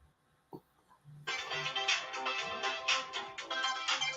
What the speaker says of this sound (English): whose ringtone was that?